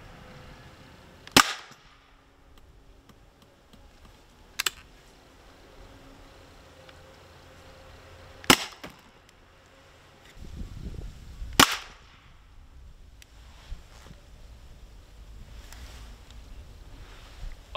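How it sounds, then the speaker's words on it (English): An HDS68 hot glue gun loaded with screws fires projectiles into wood outdoors, giving four sharp, separate cracks spaced several seconds apart, with a low rumbling thud between them and quiet background. "we'll get it loaded up and we'll shoot some down here. See what that does to the wood."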